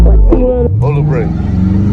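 A Dodge Challenger 392 Scat Pack's engine is revved while held on the brake, a loud close roar that rises and then settles into a deep sustained rumble, with a voice speaking briefly at the start.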